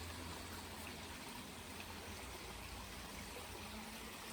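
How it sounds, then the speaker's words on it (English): A creek flows with a steady, unbroken wash of faint water noise throughout, with no voices. "I love hearing the sound of the creek."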